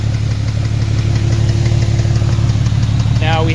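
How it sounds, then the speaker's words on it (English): A car engine idles steadily with a knocking fault, giving a continuous low rumble with a faint repetitive tick, loud and close throughout. "The engine makes a knocking noise,"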